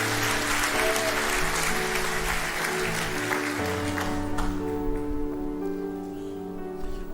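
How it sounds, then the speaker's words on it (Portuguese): A church congregation applauding during an evening service, loud sustained clapping from many hands that gradually thins and fades toward the end, with tones of background music beneath. "Dê o melhor aplauso que você pode dar ao Senhor."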